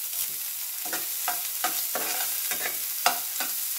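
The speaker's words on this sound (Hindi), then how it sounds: "2 मिनट तक प्याज को भून लेंगे अच्छी तरह ताकि इसका कच्चा निकल जाए" Chopped onion with black pepper and a green chilli frying in two spoons of oil in a pan, giving a steady close sizzle broken by regular scraping stirs, with no voices.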